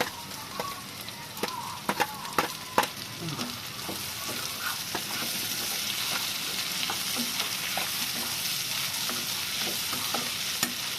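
Onions and tomatoes sizzle in a pan for egg curry, a steady frying hiss with scattered spatter pops and stirring scrapes, close and loud with no talking.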